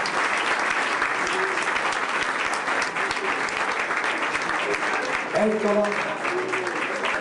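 Steady applause from a large audience at a Miss Carnevale Veneto pageant in Ceggia fills the whole stretch, with a voice speaking briefly over the clapping near the end.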